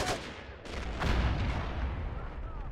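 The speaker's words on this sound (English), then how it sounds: "More missiles!" Missiles launching and impacting in the Men of War war game, a roaring burst of rumbling blasts and sustained low booms, heavy and continuous across the short span.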